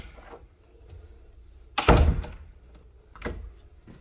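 A door slams shut once during door adjustment work in a deconstruction setting, a loud close thunk followed by a softer knock, with quiet room noise before and after.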